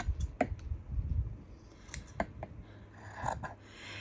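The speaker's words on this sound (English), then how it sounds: "this is the pellon, and I'm just going to fold it like this and then cut here" Scissors snipping through folded pellon interfacing, a few crisp close cuts and clicks spaced irregularly over a few seconds.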